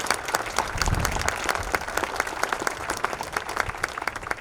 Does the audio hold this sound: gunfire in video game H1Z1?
no